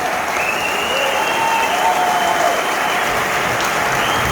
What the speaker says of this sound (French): ont besoin de vous entendre, les applaudir comme il se doit.